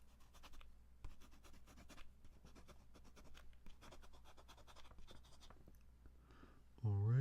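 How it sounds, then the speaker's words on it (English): A pen scratches on paper, close and quiet, a steady run of small strokes while filling in a crossword, under a soft voice speaking. "I'll write that one down"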